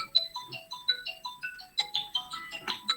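A telephone ringtone chirps in a quick, repeating melodic pattern of bright electronic tones, moderately loud and close, with no talk over it.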